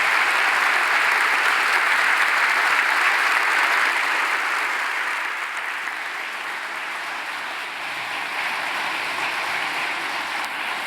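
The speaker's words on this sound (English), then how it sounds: "So, Everybody, please give a round of applause for Erik Larson." Sustained applause from an audience at an author talk fills the room, dense and steady, easing slightly in volume toward the end.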